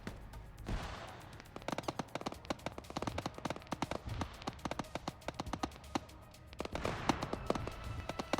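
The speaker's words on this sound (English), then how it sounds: "Blowing up their BTR." Video-game firefight in Red Snow 2 as a rocket blows up a BTR armoured vehicle: dense, rapid crackling shots and blasts pop in uneven bursts, loud and steady, with no talk over them.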